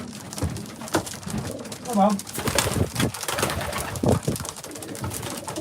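Racing pigeons, cocks at feeding time, cooing close by with repeated throaty coos among shuffling and flapping, while someone talks over them.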